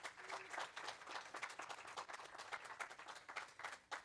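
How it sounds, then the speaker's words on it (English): Congregation applause at a Sunday church service, many hands clapping in a dense, even patter, fairly quiet and distant, lasting the full few seconds without speech. "So can we just again give them a round of applause?"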